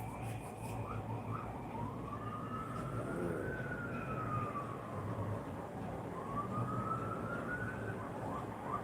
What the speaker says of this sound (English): There are police sirens going by outside my window